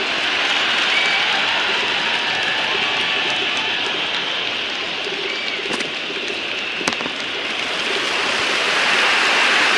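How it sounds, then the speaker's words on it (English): A cricket stadium crowd in the Cricket 26 video game during a CPL T20 match between St Kitts & Nevis Patriots and Barbados Royals buzzes as a loud, continuous roar of massed voices. It swells slightly near the end. "There's a buzz, a real buzz coming from the stands."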